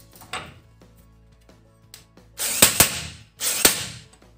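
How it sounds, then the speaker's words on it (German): A 38 mm socket on an impact tool loosens a clutch nut held in a holding fixture, with light clicks leading into two loud rattling bursts of the power tool, close and without talk. "mit einer 38 mm Nuss wird das gelöst"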